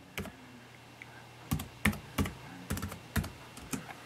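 Someone types a password on a computer keyboard: a handful of crisp, close key clicks in an uneven rhythm, with short pauses between strokes and no talking.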